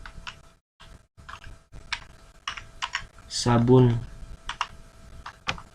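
Light clacking keystrokes on a computer keyboard as a product name is entered, in scattered bursts of taps with brief pauses, close and fairly quiet, while a person speaks briefly partway through.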